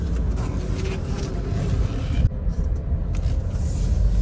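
Kia Carens seven-seater engine accelerating hard during an overtake, a steady low rumbling drone with road noise heard from inside the cabin, continuous and fairly loud, with no talking.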